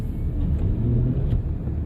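Honda car engine floored while traction control holds it back on snowy ground, fitted with General G-MAX AS-03 tires, producing a steady low rumbling drone that stays level without rising, heard from inside the car with no talking.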